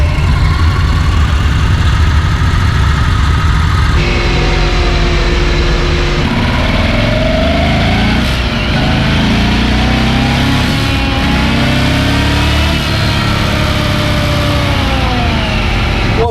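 Engine of a motorcycle being tested on a dyno, idling with a rough low rumble, then revving up and down in rising and falling sweeps, loud and close throughout.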